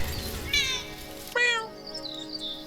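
Several cats meowing in quick succession, close and clear, with a short mew followed by longer, higher rising calls over a faint background hum.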